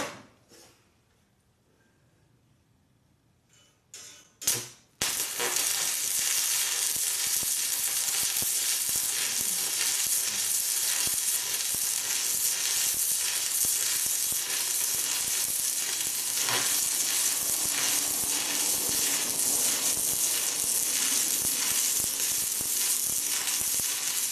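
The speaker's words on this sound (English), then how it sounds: "So that was a short weld." Loud, steady crackling sizzle of an Amico ARC-160D DC stick arc welder laying a bead on unclean metal, starting abruptly after a few quiet seconds and some clanks, then running continuously and close.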